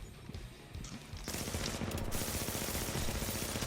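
Rapid automatic gunfire aimed at the player in a shooter video game, starting with scattered shots and then becoming a dense, continuous burst that grows louder and fills the rest of the clip, with no talk.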